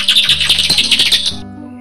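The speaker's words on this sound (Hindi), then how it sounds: "मुझे लगता है ये है आखिरी परिंदा उल्लू" A cartoon owl call in a children's animation: a bright, rapid series of chirpy hoots pulsing about a dozen times, loud and close, then cutting off abruptly.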